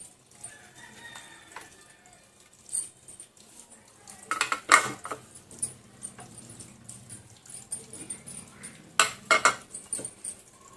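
Chopped onions being mixed into chana dal vada (garelu) batter in a bowl, heard as scattered soft scrapes and wet stirring with a few louder clattering bursts of utensil against the bowl, close up and with no talking.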